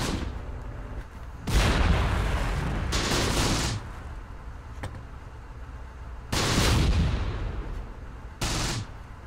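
Tank cannon fire in a World War II tactical combat video game, with several heavy booming shots spaced a few seconds apart, each a loud broadband blast with a short decaying tail, over a low battlefield rumble.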